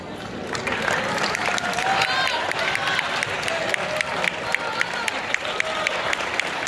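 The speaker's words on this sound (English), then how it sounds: "let the students and all of us give you a round of applause" Applause fills a band banquet hall, a warm, sustained wash of clapping with a few sharp, distinct claps standing out and some murmured voices underneath.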